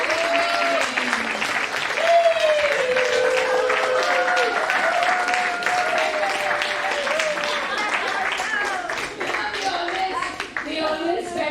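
A group of people clap for themselves in a class setting, a sustained run of applause with many hands patting at once while voices chatter and call out over it throughout.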